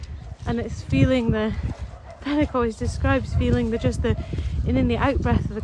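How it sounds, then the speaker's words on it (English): Farm sheepdogs give several short barks and yips in the background while a person talks steadily over them. "You can hear all our sheepdogs barking maybe"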